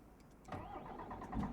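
A DAF truck engine in Euro Truck Simulator 2 cranks and catches about a third of the way in, then settles into a steady mid-pitched rumble, fairly close and loud, with no talking over it.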